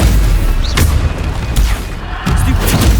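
Bombarda blasting spells explode in Hogwarts Legacy, a loud continuous rumble of booms and crashing impacts with several sharper hits rising out of the din.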